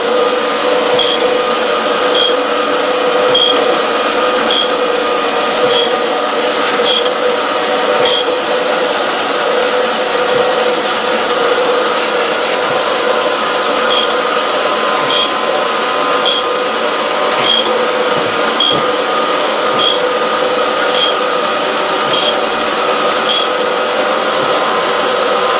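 A 46 grit K grinding wheel runs steadily on a tool-holder grinding setup, giving a continuous, fairly loud whine with faint regular ticking and no talk.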